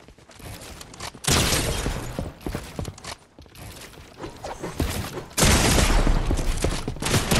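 Gun firing during a Fortnite box fight, bursts of rapid shots and clattering building noise arriving in loud waves, with quieter gaps between the heavier volleys.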